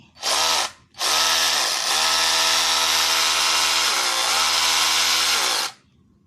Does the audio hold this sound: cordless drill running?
yes